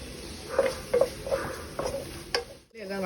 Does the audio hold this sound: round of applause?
no